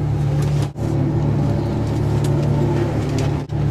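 A 2014 Ferrari FF with all-wheel drive runs on a wet track, its engine a steady droning hum with brief dips in level, heard from inside or close by and without talk.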